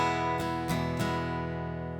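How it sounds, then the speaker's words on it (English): Acoustic guitar strumming a steady down-down-up-down-up pattern for a song, three crisp strokes early on, then chords ringing out evenly, close and clear with no talking. "we're going to use this very common strumming pattern that sounds like this"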